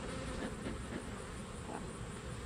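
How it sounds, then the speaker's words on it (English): Honey bees buzz steadily at an open ten-frame hive, a dense continuous hum filling the air close by, with no talk over it. "there's bees all the way across"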